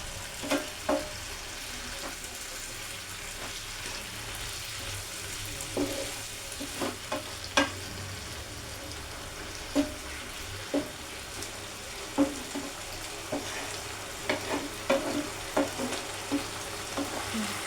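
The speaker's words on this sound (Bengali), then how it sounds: "আমি যে চিকেন সেদ্ধ করে স্টকটা রেখেছিলাম আমি এবার এটাকে স্টকটাকে এখানে দিয়ে দেব।" Bhindi chicken keema frying in a pan as chicken stock is added, a steady low sizzle under repeated sharp scrapes and clicks of a spoon stirring, close and without talk.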